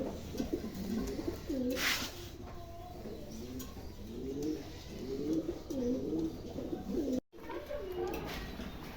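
A pair of Pomeranian pouter pigeons coo repeatedly at close range, with rolling, throaty calls recurring through the stretch alongside faint chirps and a brief dropout.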